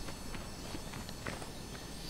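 A horse's hooves clip-clop in a steady walking rhythm in the strategy game Shogun Total War 2. The steps sound soft and somewhat distant beneath a constant noisy bed.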